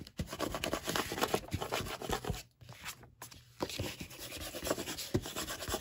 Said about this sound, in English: Now I'm going to scrape it down again.